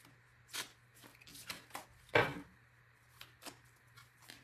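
Tarot cards being handled and spread over a table, giving a series of soft, brief rustles and slides with one louder swipe midway, close and quiet with no talking.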